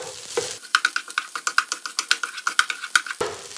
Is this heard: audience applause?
no